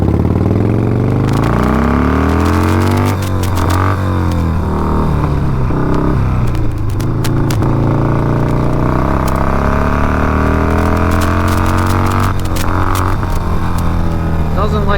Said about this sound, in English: let's rip on it through all the gears,